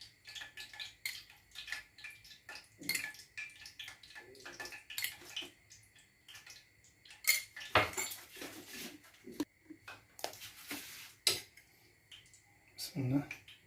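Utensils clink and scrape against a bowl while a cuttlefish salad is marinated, with irregular sharp taps and rattles, close and clear, and a voice talking intermittently between the sounds.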